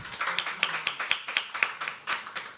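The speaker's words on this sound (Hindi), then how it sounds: "Give it up for Abhishek." Rhythmic applause from an audience at a poetry open mic, fairly close and even, with sharp regular claps carrying on without speech.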